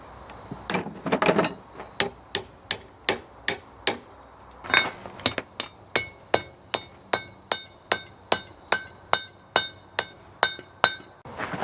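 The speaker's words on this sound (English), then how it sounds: "I'll put it in the vise and hammer the tang so it's perpendicular to the blade." A steel kiridashi knife tang clamped in a vise takes a long series of sharp metallic hammer blows, evenly spaced and ringing, with a short quick flurry near the start, close and clear with no speech.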